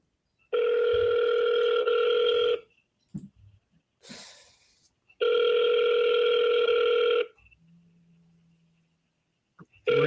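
Telephone ringback tone of an outgoing call, two long steady rings separated by a few seconds of quiet, with brief breaths and small noises between them.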